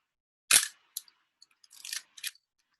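Camera shutter firing at a fast speed, a few sharp close mechanical clicks and snaps spaced apart over a couple of seconds, separated by silence.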